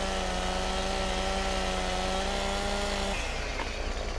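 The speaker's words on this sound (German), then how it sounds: "Ich nehme jetzt einfach hier die Säge und säge das Ding nochmal in zwei Stückchen durch." A chainsaw in Farming Simulator 17 runs at a steady engine drone while cutting through a tree trunk, then its tone drops and fades out near the end; the sound is fairly loud and continuous, with no voice over it.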